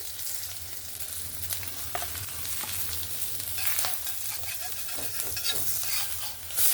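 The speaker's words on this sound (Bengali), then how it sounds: "মাছের দু সাইডটা সুন্দরভাবে ভেজে নিয়েছি।" Fish, a dhela/phesa variety, frying lightly in hot oil on both sides, giving a steady, close sizzle with a faint crackle and no talk.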